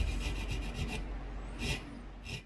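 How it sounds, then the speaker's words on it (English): A file rasps across the antler pommel of a forged rifleman's knife in quick, rhythmic strokes, close and fairly quiet, with a pause and a few final passes. "I'm going to come in with a series of files to begin shaping and smoothing everything out"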